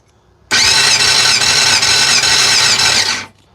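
A Yamaha FZR600 motorcycle engine, idle for twenty years, cranks on the starter with the throttle held open during a compression test: one loud, close, continuous whirring burst of about three seconds that starts abruptly and fades at the end.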